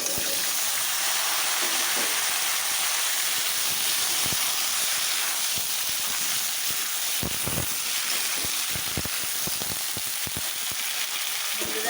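Potatoes and eggplant sizzle and hiss in a hot oiled pan, a dense steady frying crackle with occasional sharper pops, close and continuous.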